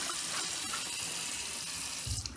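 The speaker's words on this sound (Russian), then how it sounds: "не знаком с такой функцией биде" A bidet's water spray runs continuously as a steady, close hiss with no speech, ending in a short low thump.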